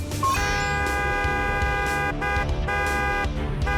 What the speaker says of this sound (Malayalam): ഈ ഹോൺ സൗണ്ട് കേട്ടിട്ട് ആ മോഡലിന് ഒരു അനക്കവും ഇല്ല.